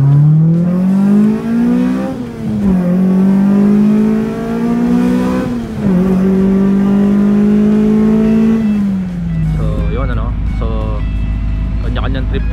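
Mitsubishi Lancer GSR with a MIVEC engine revving hard, a loud rising and falling engine whine climbing in several sustained pulls, then settling into a rougher rumble near the end.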